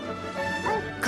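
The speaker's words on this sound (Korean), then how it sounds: "I think that you're a girl dog." A dog gives short, close yips and soft whimpering barks over a steady musical bed, with a sharper burst at the very end.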